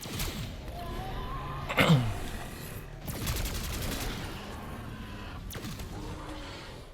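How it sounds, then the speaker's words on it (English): AK-74 assault rifle fire in Black Ops 6, heard as a few sharp bursts spread through a steady game background, with one louder shot cluster near the start and more cracks later. "here we go with the next weapon, being the AK-74"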